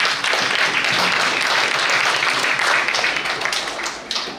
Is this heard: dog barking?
no